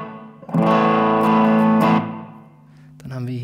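An electric guitar played through a VOX Valvetronix VT20+ or VT40+ modeling amp with room reverb, sustained distorted chords ringing out and decaying, then a new chord struck near the end.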